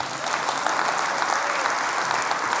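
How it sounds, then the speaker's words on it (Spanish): At a church service, a congregation claps in a full, even burst of applause, loud and sustained across the whole moment with no pause. "Denle un aplauso al Señor"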